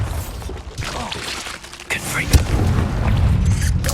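A Bombarda spell going off in the Hogwarts Legacy video game, a loud booming blast with a sharp crack near the middle, over a rumbling game soundscape.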